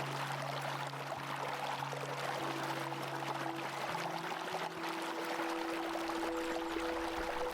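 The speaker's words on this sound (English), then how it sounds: "Cool streams and cascading waterfalls make it a perfect destination for nature" A cool stream and cascading waterfalls in an Australian park give a steady, full wash of rushing water throughout, with sustained musical tones layered over it.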